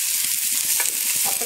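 Halved shallots drop into hot oil in a pan and sizzle steadily, a bright, close frying hiss with light stirring clicks and no talk.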